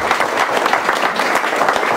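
Sustained applause fills a hall at an association gala in Borås, a dense, steady wash of many hands clapping close by with no voices on top.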